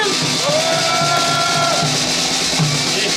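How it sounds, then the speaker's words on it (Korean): Crowd noise at an outdoor political rally about alleged election fraud, a dense, loud roar of voices with scattered shouts and whoops filling the whole stretch, steady and continuous. "큰 박수로 함께 해주세요"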